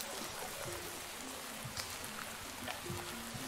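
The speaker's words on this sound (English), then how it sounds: "then it just starts pouring down rain" Heavy rain pours steadily in a video game, a dense even hiss of falling water with scattered droplet ticks, constant and fairly quiet throughout, with no talking.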